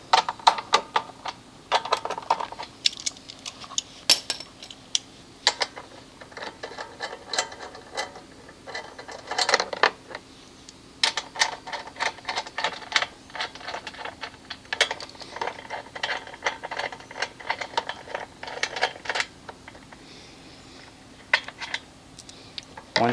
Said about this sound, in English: First, remove the 3 screws that hold the recoil start system.